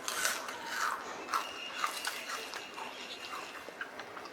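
Soft, crisp crunching bites repeat in a steady rhythm, close and fairly quiet, with no talking.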